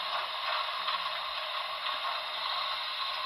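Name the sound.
air pump sound effect from HO scale model steam locomotive sound decoder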